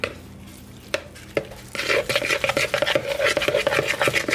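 Eggs are being mixed into a dog-friendly pizza dough in a bowl. After a few isolated knocks, a close, rapid run of rhythmic scraping and stirring strokes continues to the end, with no talking.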